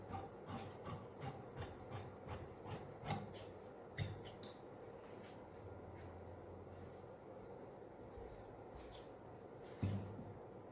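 Scissors cutting cloth for palazzo trousers at a tailoring table: a quiet series of rhythmic snips and rasping slides, about a dozen strokes close together at first, then sparser, with a low background hum and no voices.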